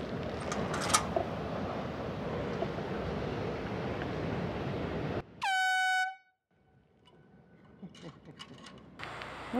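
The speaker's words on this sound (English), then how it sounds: "Blow air horn for escort." An air horn blasts once, loud and sustained for about a second, at a dam crossing on the Pacific Crest Trail, over steady wind and rushing-water noise that drops away afterward.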